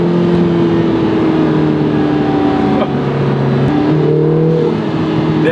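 Lotus Emira four-cylinder turbo with sport exhaust valves open: a loud, close engine drone with shifting tones, plus a brief wastegate whoosh and sharp exhaust pops partway through.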